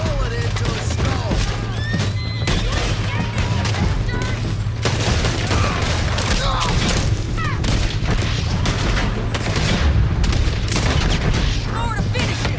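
Repeated heavy gunshots and booms ring out in a Red Dead Redemption II shootout, coming in irregular bursts over a constant rumble, with shouting voices mixed among the shots.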